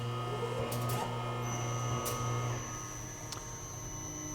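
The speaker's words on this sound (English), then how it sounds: "We'll now activate the machine again" A Hofmann automated tire changer machine running its bead-removal sequence, heard as a steady mechanical hum with a whine and a few sharp clicks near the start, moderately loud and with no talking.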